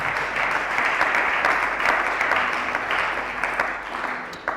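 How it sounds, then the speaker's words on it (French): Congregation at a community church seminar applauding, a steady, dense wash of clapping throughout, with no voices heard. "Acclame pour le Seigneur. Acclame."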